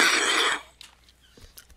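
A single harsh cough from a person standing by an old-fashioned outhouse, close and loud for half a second, then quiet rustling.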